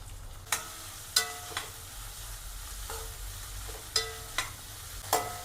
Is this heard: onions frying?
yes